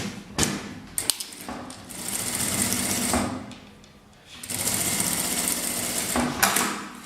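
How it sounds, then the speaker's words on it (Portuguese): A sewing machine stitches fabric for a modern bag, running in several steady whirring bursts of a few seconds each, separated by short pauses and soft handling thumps. "passo uma costura com o pé de máquina"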